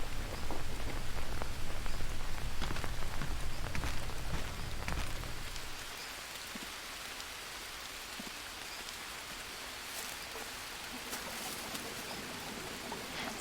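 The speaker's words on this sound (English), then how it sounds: "we don't have any effects from the rain really, because I mean we're in a rainforest, it's almost always raining" Steady rainfall in the jungle of the video game Green Hell, a dense hiss of drops on surfaces that is louder for the first few seconds, then settles into a softer continuous patter.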